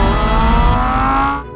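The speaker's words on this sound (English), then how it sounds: "Lamborghini V10 from Gallardo Huracan can produce a piercing note." A Lamborghini Gallardo or Huracán V10 engine revs hard and loud with a piercing, high-pitched exhaust note, holding steady close up before cutting off sharply at the end.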